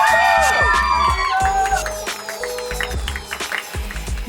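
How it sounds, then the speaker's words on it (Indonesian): A live audience at an Indonesian stage event cheers, whoops and claps loudly, a dense crowd roar over a ringing musical chord that fades, with shouts from children and the crowd continuing throughout. "Beri tepuk tangan yang meriah lagi, lebih kencang lagi teman-teman."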